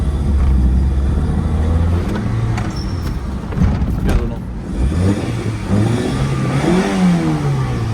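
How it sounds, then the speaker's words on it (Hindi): A car's exhaust note in a basement parking garage, the engine rising and falling through several revs over a deep rumble, loud and close with brief voices in between. "बाकी एग्जॉस्ट नोट सुनाता हूँ"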